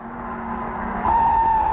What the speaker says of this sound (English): Car spinning. Jack Harden takes the 3rd turn backwards.